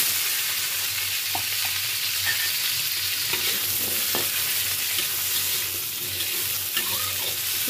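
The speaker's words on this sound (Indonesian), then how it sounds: "Kita masukkan paprikanya." Bell pepper is stir-fried in a pan, with a continuous close sizzle and occasional soft scrapes of stirring throughout.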